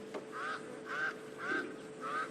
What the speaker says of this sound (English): And there we can hear that pied crow calling quack, quack, quack.